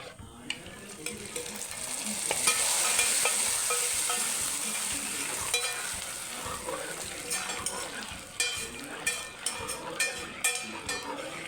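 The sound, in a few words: stirring wheat payasam in a pan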